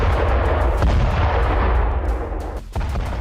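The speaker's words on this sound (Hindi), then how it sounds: "कुर्स्क में यूक्रेनी सेना ने रूस के हथियार गोदाम पर धमाके किए" Explosions at a Russian weapons depot in Kursk that was set ablaze: a loud, dense, continuous booming rumble with overlapping blasts, dipping briefly near the end before surging back.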